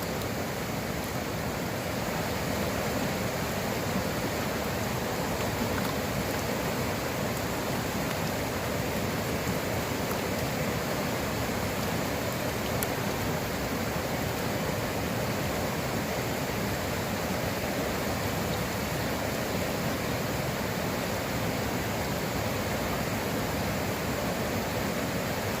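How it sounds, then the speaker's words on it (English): A creek runs along the back of a rural property, giving a steady, even rushing of water that holds unchanged throughout with no voices. "The homeowner has this creek on the back of his property"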